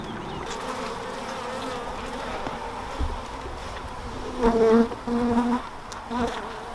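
Honeybees buzz steadily at an opened hive, a dense continuous drone that swells louder for a few seconds midway as bees pass close, with no talking.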